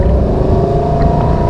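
A Monterey 238SS surf boat engine roars loud and close as it powers up from idle, a heavy low rumble with a steady rising drone over the short stretch.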